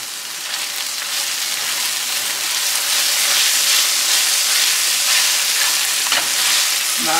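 Onions frying in a pan give a loud, close, continuous sizzle and hiss that holds steady throughout, with a faint scrape near the end and no talking.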